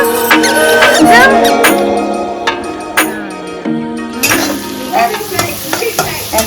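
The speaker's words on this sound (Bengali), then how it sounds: "এই যে ভেজগুলো ভাজা হচ্ছে" Vegetables sizzle loudly in a pan for breakfast chowmein, with repeated scraping stirs and clatter, while voices and squeaky tones come and go over the frying.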